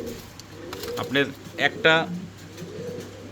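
A pair of Starling fancy pigeons cooing softly in low, rounded calls close by, with someone talking over them in bursts.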